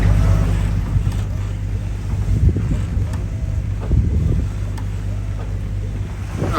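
A sailing catamaran motors along on a single engine, a steady low drone under strong wind buffeting and the wash of water against the hulls.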